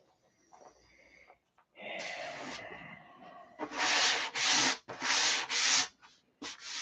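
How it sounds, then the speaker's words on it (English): Hand sanding with 600-grit sandpaper on a cap strip: a few soft rubs, then several loud, rhythmic abrasive strokes, each lasting about a second, close to the microphone. "I'll probably sand it with 600 too."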